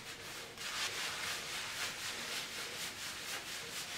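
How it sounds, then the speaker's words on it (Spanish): Shampoo lather being massaged into long hair and scalp by hand, a steady close soft wet rubbing and squishing that continues evenly throughout without speech. "lo extiendo bien en la mano para que se genere espuma y masajeo todo el cuero cabelludo"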